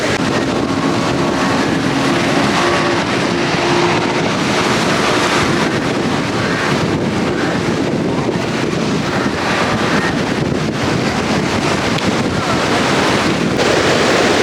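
Rough sea waves crash at a river mouth in stormy conditions, a loud, continuous roar of surf mixed with wind buffeting the microphone, steady throughout with no voices.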